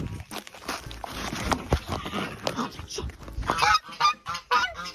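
A goose honking repeatedly in sharp, irregular bursts while being approached by people, close and fairly loud, with voices and scuffling mixed in.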